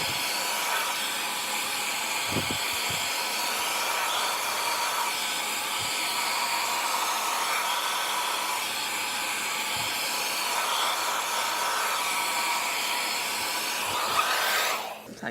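A Doux blow dryer roars steadily and close while drying long, thick hair, with a constant hiss and a few faint bumps and knocks beneath it.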